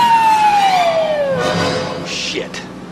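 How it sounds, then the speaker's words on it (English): A police car siren in a 1990 action film sounds as one steady wailing tone that slowly slides downward, with voices and background noise around it. "Hit the siren."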